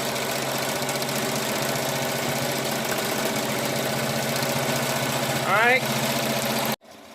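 A Melco EMT16X embroidery machine stitches steadily at 900 stitches per minute with Hobby Lobby thread, a loud continuous mechanical hum and rapid rhythmic clatter up close, then stopping abruptly near the end; a voice speaks briefly.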